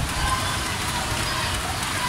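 Heavy rain pours down suddenly onto a pigeon loft's roof and trapdoor after the birds return from training, a steady broadband hiss filling the short stretch without letup.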